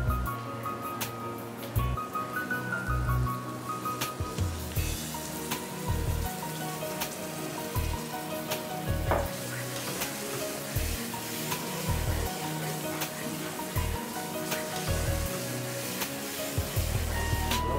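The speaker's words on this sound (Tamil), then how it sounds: "கோகனட் மில்க் போட்டு ஒரு டர்ன் பண்ணி ஒரு கொதி வந்தோடனே நம்ம இறக்கிடும்" Coconut milk poured into masala frying in oil, giving a steady wet sizzle and bubbling with light stirring, near and continuous, a low background hum underneath.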